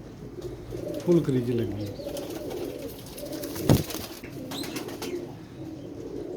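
Pigeons coo softly nearby in a few low, throaty bursts while someone talks over them.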